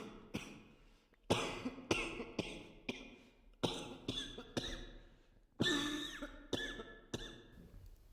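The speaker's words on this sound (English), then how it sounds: "How long have you had that cough?" Harsh, hacking coughs in a dozen sharp bursts, some in quick pairs, close and fairly loud against near silence.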